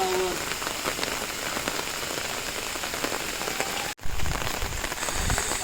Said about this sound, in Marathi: बघा किती पाऊस पडतोय ॲक्च्युली